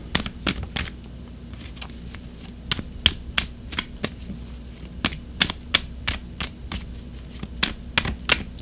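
Tarot cards are shuffled close up in a steady run of crisp riffling clicks and flutters, evenly spaced and fairly loud, with no talking.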